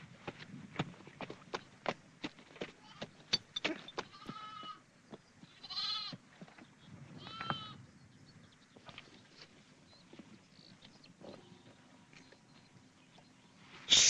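Sheep on a farm bleating, several drawn-out wavering calls in the middle of the stretch over quiet rural background with scattered knocks and shuffles, moderately close.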